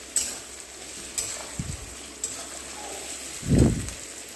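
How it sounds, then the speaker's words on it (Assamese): Crushed garlic fries with spices in a pan for an Assamese duck curry, giving a steady sizzle with a few scraping stirs and one louder clattering stir near the end. "নহৰুখিনি দিয়াৰ পাছত এনেকৈ পুনৰ মই ভাজিবলৈ আৰম্ভ কৰিলোঁ"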